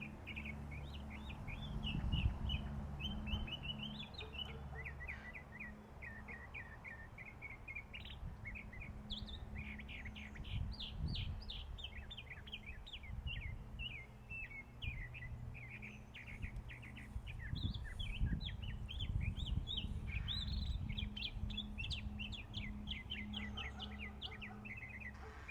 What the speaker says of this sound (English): And listen to that bird.